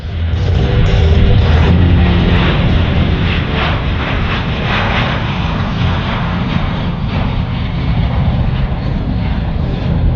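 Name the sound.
RCAF CC-177 Globemaster III aircraft at an airshow demo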